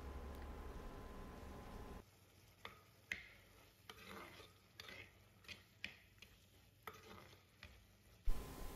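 Chicken masala is stirred and mashed in a pan, with a series of soft irregular scraping and tapping strokes of a spatula over a faint sizzle, quiet and close.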